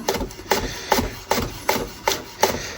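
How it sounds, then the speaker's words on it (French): A knife slices vegetables very finely for Brazilian vinagrete. The blade strikes a cutting board in a steady rhythm, about seven crisp close chops at even intervals, with no talking. "ce que je vais faire avec mon couteau, vous voyez, je vais faire des très fines lamelles"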